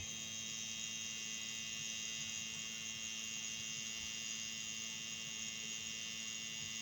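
Air pump of a BIO4 device running after power-on, a steady, even electric hum with a faint high whine, continuous and unchanging, close and quiet, with no talking.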